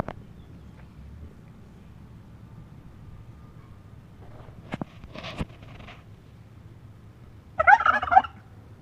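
A turkey gobbles in a short burst near the end, after a few faint clicks and rustles in an otherwise quiet outdoor farmyard on a damp, cool day.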